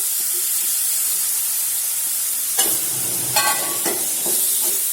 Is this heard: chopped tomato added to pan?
yes